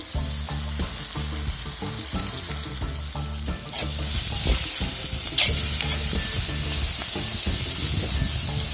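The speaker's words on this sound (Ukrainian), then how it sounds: "І в першу чергу закидуємо обсмажувати цибульку в казан." Onion frying and being stirred in a cauldron, a loud, steady sizzle with scraping stirs that grows hissier partway through, close up and without talk.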